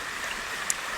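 A gentle stream flows steadily at low volume, a soft continuous wash of moving water with one tiny splash, no voices.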